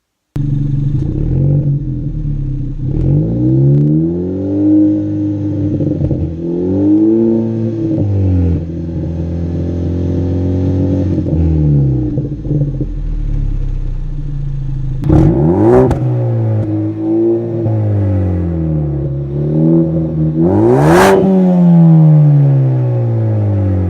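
A Ford Focus ST hatchback's loud Ford Performance exhaust revs repeatedly, rising and falling in pitch with sharp blips near the end, close and sustained.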